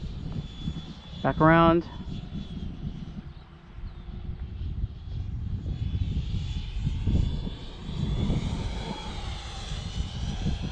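An RC airplane cruises around a flying field at about 40% throttle, its engine a steady droning hum that swells and fades as it passes, with a brief beeping tone early on and a short spoken remark.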